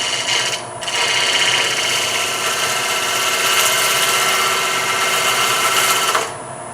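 An oak segmented bowl spinning on a wood lathe at about 1,000 RPM as a gouge takes steady cuts, a continuous close, loud scraping hiss with a mechanical whir beneath, starting and stopping cleanly.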